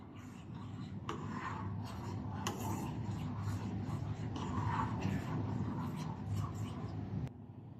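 Thin cream for kunafa is stirred in a pan, giving continuous soft scraping and rubbing with a few sharper clinks, close up and steady throughout.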